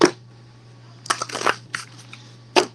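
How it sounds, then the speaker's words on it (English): Tarot cards are shuffled in a few short papery bursts, riffling and slapping close by with quiet gaps between, over a low steady hum and no talking. "Let's get the shuffle."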